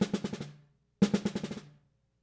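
Two snare drum buzz strokes played with too little stick pressure, each breaking into a handful of separate, distinct bounces rather than a smooth buzz, close and clear.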